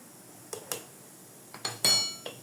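A spoon clinks against a container while turmeric and kumkum are mixed into rangoli powder, giving several sharp, scattered metallic taps over quiet background.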